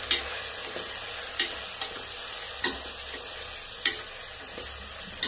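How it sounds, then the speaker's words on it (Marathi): Tomatoes and spices get stirred in a hot pan with a soft continuous sizzle, punctuated by several sharp spoon scrapes and knocks at irregular intervals. "टमाटे टाकून आता याला मी हलवून घेणार आहे"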